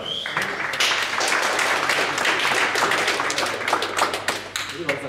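An audience at a fight gala weigh-in breaks into sustained applause, dense clapping with a few whoops, loud and continuous for several seconds.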